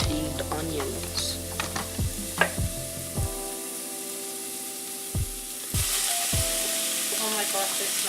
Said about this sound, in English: now we're gonna add the onions to this pan